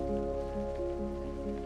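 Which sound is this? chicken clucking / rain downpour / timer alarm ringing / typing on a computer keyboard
rain downpour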